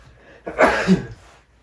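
A single sharp, explosive sneeze up close, loud and brief, with quiet before and after.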